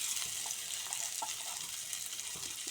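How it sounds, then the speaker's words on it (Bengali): Small potatoes frying in hot oil for a duck egg curry, giving a faint, steady sizzle with soft crackles throughout. "এখন এই আলুগুলো ভালো করে লাল করে ভেজে নেব।"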